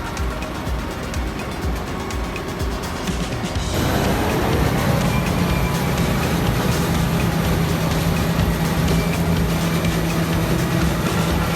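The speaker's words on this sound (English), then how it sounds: "The case IHJX90 roared desperately as its wheels spun in the deep mud" A Case IH JX90 tractor stuck in deep mud roars steadily as its wheels spin, a loud continuous engine drone that grows heavier and denser partway through.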